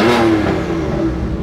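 Aston Martin Vantage engine giving one short, loud rev up close, a thick, throaty roar that holds steady for about a second and then begins to fade.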